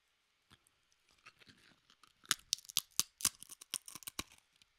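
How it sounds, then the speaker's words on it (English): A corn chip is bitten and crunched, giving a quick series of sharp, crisp cracks that build to a dense cluster, then thin out; close, quiet, no voices. "Did you see how that corn chip had high frequencies?"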